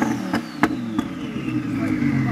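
A twin-turbo Lamborghini Huracan pulls up at a dyno day, its engine a steady mid-pitched drone with a few sharp clicks and pops over it, heard close amid crowd noise.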